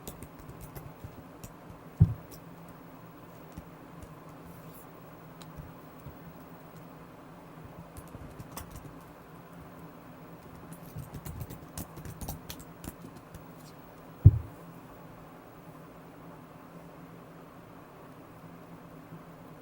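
Soft, scattered typing on a computer keyboard over a steady background hum, with two sharper isolated knocks, close and quiet.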